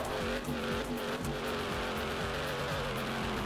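Car engine in the video game Denizen revving hard at high speed, producing a loud, continuous roaring drone with shifting tone and brief tire noise, with no talking.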